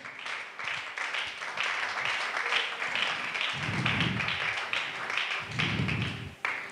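A church congregation applauds, a broad wash of clapping that carries on steadily, with low thumping swells and tapping beneath it.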